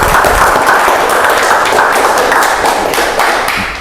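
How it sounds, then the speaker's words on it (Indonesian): A small studio group claps at the opening of a talk show, sharp dense clapping close and loud that tapers slightly toward the end. "Tepuk tangan dulu dong."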